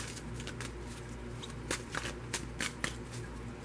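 A tarot card deck being shuffled up close, a continuous riffling patter with several sharper slaps of cards near the end, quiet and steady.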